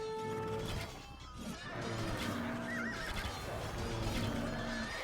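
Horses in pens neigh and whinny repeatedly in the Age of Empires 2 Definitive Edition strategy game, with several overlapping calls over a steady battle and ambient game din, no talking.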